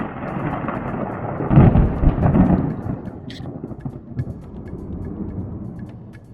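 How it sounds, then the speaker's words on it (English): A thunderstorm with rolling thunder and steady rain over open water, with a loud rumbling swell in the first half that fades into a softer, continuous wash of rain and wind. "there's like a thunder and lightning storm that just rolled right on top of us"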